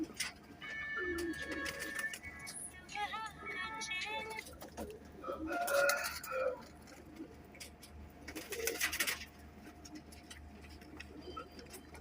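A Kasuri pigeon coos softly nearby while other birds chirp and whistle in the background, with scattered rustling and a few brief bursts of noise.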